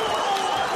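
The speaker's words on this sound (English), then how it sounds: "the crowd here in Copenhagen roaring" A crowd roaring at a boxing fight in Copenhagen, a brief, loud, dense burst of cheering and clapping.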